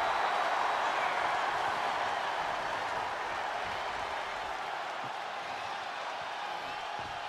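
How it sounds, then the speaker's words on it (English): Steady, loud crowd roar with broad applause and cheering from a wrestling arena audience in the WWE 2K23 video game, continuous throughout with no letup. "What a raucous crowd here tonight."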